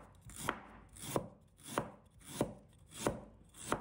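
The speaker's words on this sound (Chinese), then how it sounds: "接着准备1块生姜，把它切成片。" Knife slicing a piece of fresh ginger on a cutting board, six evenly spaced crisp chops at a steady rhythm, close and fairly quiet, with no talk.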